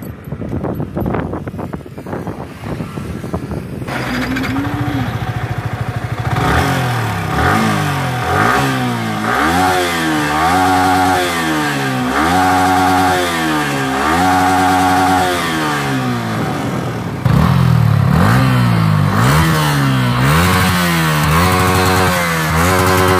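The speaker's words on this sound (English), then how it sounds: "let me show you some clip of exhaust note." A Yamaha R15 V3 sport motorcycle engine revs repeatedly, its loud, raspy exhaust note climbing and falling in sharp bursts, close by with no talking.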